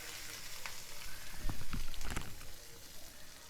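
A hot tempering mixture is poured into cooked foxtail millet and moong dal for pongal. A steady close sizzle swells into a few louder crackling bursts midway, then settles back.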